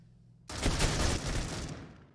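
Gunfire in the mobile shooter Critical Ops: a sudden loud burst erupts after a quiet moment and rolls into a dense, sustained rattle of shots that slowly fades, close and without talk.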